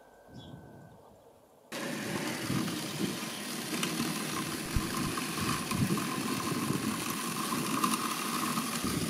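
A Redkey MGC500 robot lawn mower starts up and runs steadily nearby, giving a continuous low motor hum with a grassy cutting rustle and no talk.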